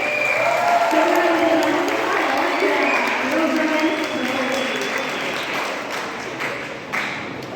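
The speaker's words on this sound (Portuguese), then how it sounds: "seminaristas, olha lá, gente, nossa, vamos aplaudir também." Applause from a church congregation for seminarians during a Catholic youth vocation event in Coronel Fabriciano, a dense steady clapping that fills the room with voices mixed in, tapering slightly toward the end.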